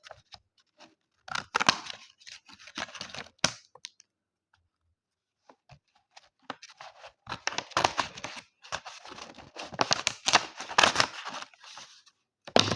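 Scissors snipping open a plastic bag, with short crisp cuts and crinkling bursts in two main stretches separated by a quiet pause, close and moderately loud with no talking.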